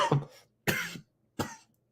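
Three close, forceful coughs in quick succession, loud and near, with brief silences between them.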